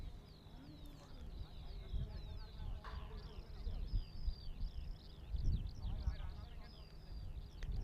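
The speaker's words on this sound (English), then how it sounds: "Hear the birds chirping away in between" Birds chirp in repeated quick, high twittering bursts in the open air of a T10 cricket ground in Czechia, fairly distant and layered over faint background murmur and occasional voices.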